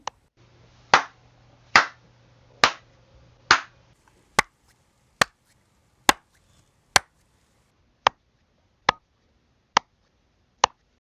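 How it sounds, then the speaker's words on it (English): About a dozen single hand claps sound one at a time at an even pace to test room reverberation, each a sharp crack with a short fading tail; the later claps ring out more briefly. "This graph displays the decay of the hand claps."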